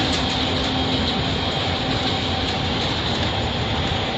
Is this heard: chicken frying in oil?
no